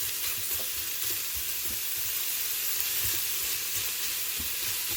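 Onions frying in oil in an Instant Pot, a continuous close sizzle with soft, irregular scraping and stirring taps underneath.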